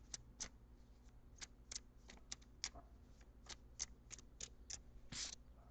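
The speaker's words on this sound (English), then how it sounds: "So I'm shuffling for your outcome card." Quiet, close shuffling of tarot cards, a series of light snapping flicks spaced irregularly, ending in a longer riffle.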